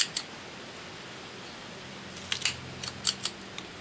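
A cigar cutter snips the end off a cigar in a few quiet, crisp clicks: one near the start, then a small cluster of sharp snips toward the end over a faint room hush.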